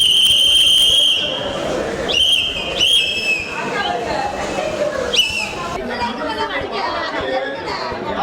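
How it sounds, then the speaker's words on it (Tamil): A whistle blown in sharp, high bursts by a party worker entering a council meeting, rising over a busy hubbub of overlapping voices in an indoor chamber. "கட்சி தொண்டுடன் விசில் ஊதியபடியே உள்ளே நுழைந்துள்ளார்"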